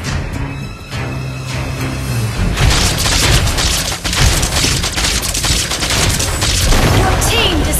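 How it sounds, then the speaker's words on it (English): A turret is destroyed in the Mobile Legends game, sending out a loud sustained burst of explosive blasts and crackling debris that drowns out the lighter game sounds and continues for several seconds. "Your team destroyed a turret!"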